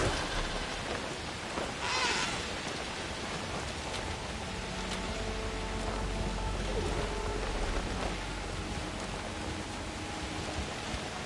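Rain falls steadily in a Horizon-style video game with Aloy, a constant hiss across the whole clip with a brief brighter splash early and faint distant rumbling beneath.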